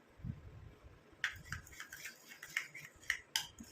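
A utensil stirs thick hair dye mixture in a bowl, giving quiet, irregular scraping clicks and light taps.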